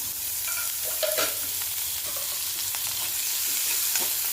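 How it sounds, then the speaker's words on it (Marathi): Onion sautéing in oil in a kadhai, a loud continuous sizzle broken by repeated spatula scrapes and stirs, heard up close with nobody speaking. "कांदा थोडस परतून घेऊया"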